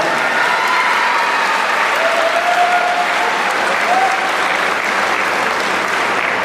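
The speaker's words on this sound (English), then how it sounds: "Please give them a round of applause." A crowd applauds at a middle school promotion ceremony, dense, loud and sustained clapping with a few faint whistles and cheers over the top.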